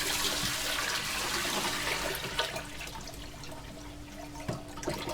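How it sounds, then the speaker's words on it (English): Old saltwater from a coral-dipping container is poured away down a drain, a steady rushing gush that tapers into trickles and a few drips near the end. "So I just pour the old water away down here."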